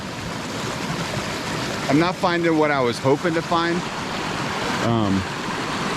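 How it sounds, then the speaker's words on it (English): A small creek flows steadily close by, a constant broadband wash of running water that continues under and between a man's speech. "This creek is a little smaller than I thought it was going to be, honestly."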